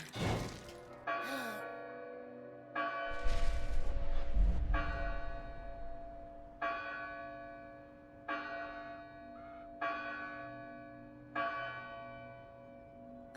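A bell rings in the video game Dustborn, struck about eight times at uneven intervals, each clear metallic peal ringing out and decaying, with a crash and brief talk in between.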